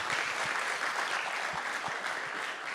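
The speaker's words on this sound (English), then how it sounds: "Big applause for everybody to be here." A conference audience applauds at a blockchain event, a steady burst of many hands clapping fairly close, with a few sharper individual claps standing out.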